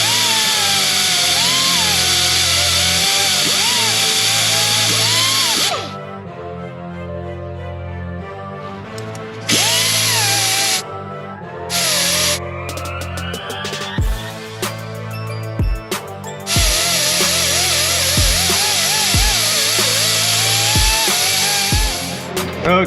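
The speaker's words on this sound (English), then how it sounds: "incoming power tools. We'll just polish off that gasket business right there" A power tool polishes old gasket material off a crankshaft seal plate during engine work, running in long loud harsh bursts that stop and restart, with quieter gaps and sharp knocks between them.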